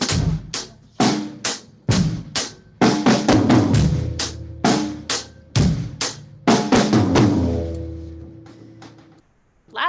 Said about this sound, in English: So I'm going to do the first 2 hits on the snare drum and the second 2 hits on, let's say, the rack tom.